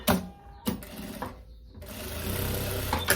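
A sewing machine stitches a seam joining two parts of a viscose dress, starting and stopping in short bursts of close, rapid needle clatter before settling into a longer, steady run, with no talking.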